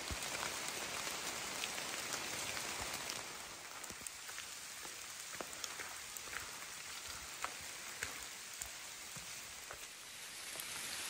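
Steady rain on the Appalachian Trail falls in a dense, even hiss, with scattered sharper drops pattering on nearby surfaces.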